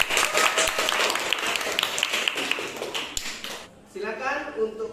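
A classroom claps for a student group after their presentation, brisk close applause for several seconds that fades out, followed by talking.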